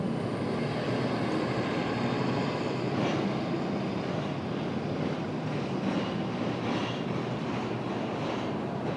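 An Avianca airliner rolls past at Dallas airport, a steady broadband roar of jet engine noise that stays loud and even throughout with no voices over it.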